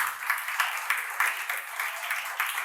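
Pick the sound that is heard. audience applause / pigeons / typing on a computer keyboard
audience applause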